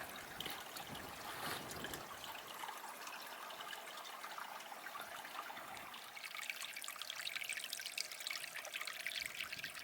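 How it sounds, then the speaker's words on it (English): A fresh water stream trickles in a Grand Canyon wash along the Escalante Route, a faint, steady burble and splash heard from a short distance with no voices. "Found some fresh water."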